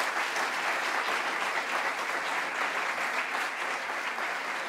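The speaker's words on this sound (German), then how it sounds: "Applaus" An audience applauds at a formal event welcoming an EU commissioner, a steady, dense wash of clapping held at an even level throughout with no voices.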